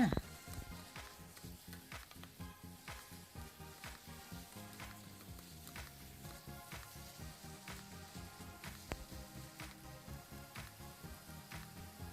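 Minced pork sizzles and fries in a hot pan with ground bottled pepper as it is stirred, a steady crackle with repeated scraping strokes throughout, and a voice is heard faintly at times.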